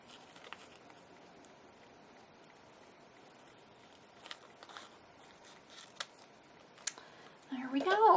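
Scissors trim around paper for a file folder mini album, faint close snips spaced irregularly under a quiet room, with a louder rustle at the end.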